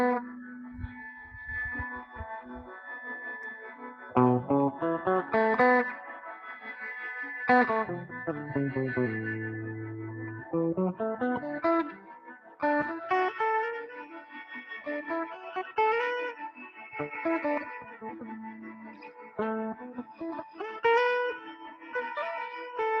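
An experimental library sound effect called Ghost World plays alone, a bouncy, ominous run of warbling, pitch-sliding synthetic tones thick with effects, distortion and chorus, with rising and falling sweeps throughout.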